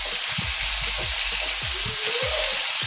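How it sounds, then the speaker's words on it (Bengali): Large cut eggplant pieces frying in hot mustard oil with a few mustard seeds, a steady bright sizzle throughout, broken by soft repeated low thumps from stirring or pieces settling in the pan. "এবার আমি বেগুনগুলোকে দিয়ে দিব।"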